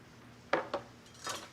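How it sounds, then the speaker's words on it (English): Dishes and utensils clatter at a kitchen sink as a cutting board with a little pancetta on it is washed, two sharp knocks followed by a softer rubbing clatter, close and fairly quiet. "I'm gonna wash my cutting board that has a little pancetta on it."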